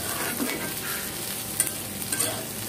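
Dried puti fish lightly frying in a pan, with a soft, continuous sizzle. A few quiet scraping taps come from stirring.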